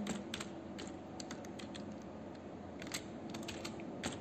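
Keys tapped on a computer keyboard while C code with printf is typed, giving a quiet, steady run of soft clicks over a humming room background.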